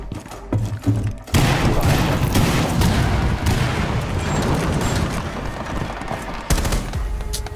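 Gunfire in the video game Rainbow Six Siege, a loud, dense barrage of rapid shots and booms that runs almost without pause after a brief quieter start.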